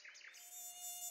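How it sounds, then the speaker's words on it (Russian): A cartoon mosquito buzzes in a thin, steady, high-pitched whine that swells and wavers slightly as it hovers close, heard alone without any talking. "Комар?"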